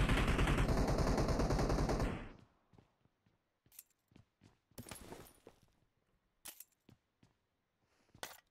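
Sustained automatic gunfire in PUBG Mobile, a loud rapid burst for about two seconds, then scattered single shots and short bursts at varying distances.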